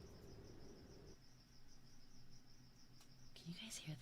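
Crickets chirping outdoors at night, a steady high trill repeating throughout, faint and distant under quiet room noise and a few soft rustles.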